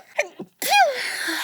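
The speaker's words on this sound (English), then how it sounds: "I'm going to sneeze." A single close, loud human sneeze: two short breathy intakes, then a sharp explosive burst that trails off into a brief rasping exhale, heard alone.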